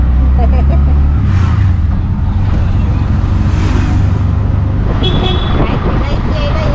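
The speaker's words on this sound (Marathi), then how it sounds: "आता आम्ही रिक्षात बसलेलो आहे, डिस्कोवाली रिक्षात" Riding in an auto rickshaw through traffic: a loud, steady engine and road rumble fills the clip, with car horns tooting now and then from nearby vehicles.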